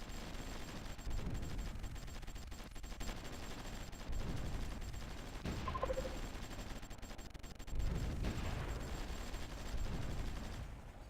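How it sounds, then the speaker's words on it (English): Artillery fire in the Supreme Ruler Ultimate strategy game, German Empire 1914 campaign: a steady rumbling barrage of booming impacts and crackling bursts, dense and continuous, swelling in a few louder waves. "First rounds of artillery are landing"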